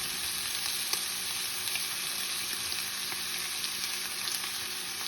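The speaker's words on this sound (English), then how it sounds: "We'll just fry it" Elk tongue fries in a pan to crust the outside, giving a steady, even sizzle and crackle close by for a few seconds with no talking.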